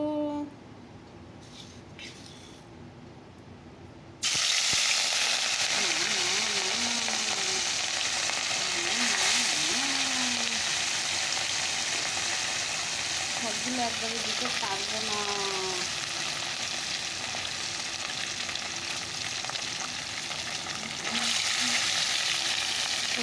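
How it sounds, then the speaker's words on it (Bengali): Fish, a large one among several, sizzles in hot oil in a wok, starting abruptly after a quiet few seconds and holding a loud, steady crackle to the end, with occasional speech over it. "তেলটা গরম হয়ে গেছে তো চলো মাছগুলো ভেজে নিই আগে বড় মাছটা ভেজে নিই"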